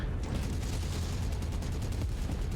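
Sustained, dense machine-gun fire from a battlemech in a MechWarrior game, heard as a continuous loud rattle of rapid shots throughout with no talk over it.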